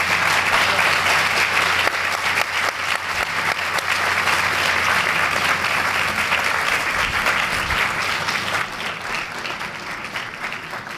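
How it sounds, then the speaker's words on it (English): A large audience at a university gift announcement breaks into strong, steady applause that holds for several seconds, then tapers a little toward the close. "Let's give them a round of applause."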